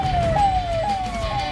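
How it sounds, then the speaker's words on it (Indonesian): An ambulance siren wails, sweeping downward in repeated falling tones, loud and close, over a low rumble of busy street traffic in India. "Terlihat mobil ambulans yang lengkap dengan suara sirena ini melewati jalan di India yang cukup padat."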